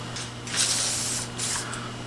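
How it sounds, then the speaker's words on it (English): Aerosol spray can sprayed onto a Homelite T12 transmission hub, two close hissing bursts, the first longer, the second shorter, with a faint hum underneath. "Maybe that needs another spray."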